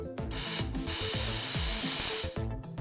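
A ring is cleaned before rhodium plating with a close, steady hiss like spray or steam lasting about a second, and short clicks and tool noises before and after it.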